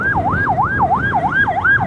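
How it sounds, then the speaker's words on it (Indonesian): An ambulance siren wails close by on a road, sweeping up and down in a fast, regular yelp pattern that repeats about every third of a second over engine noise, and no one talks. "Ada ambulan."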